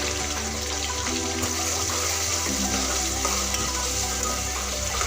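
Tomatoes fry in a pan for pav bhaji with a constant loud sizzle and crackle. Faint stirring noises come and go under it, and no one speaks.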